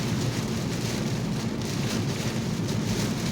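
Steady rain falls and patters on a car during a drive home on a hot summer day, a dense continuous wash of drops with no talking.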